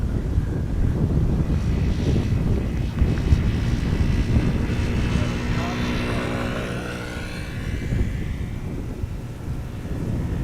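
An Emirates airliner arriving at Amsterdam Schiphol in a strong crosswind of about 50 knots: a sustained roar of jet engines with a sweeping, shifting whine as it passes, under heavy wind buffeting on the microphone.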